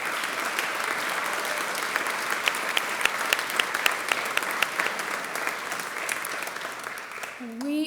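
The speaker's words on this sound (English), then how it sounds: "a round of applause for Dr. Opal Lee and President Fred Slaybaugh" Sustained audience applause fills an awards dinner hall, a dense steady clatter of many hands with sharp individual claps standing out, running loud and unbroken before briefly easing near the end as a voice begins.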